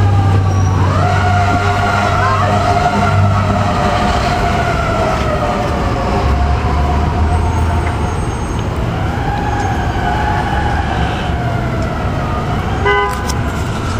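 Emergency vehicle siren wailing on a New York City street, loud and continuous with rising and falling tones over heavy traffic rumble, and a short horn blast near the end.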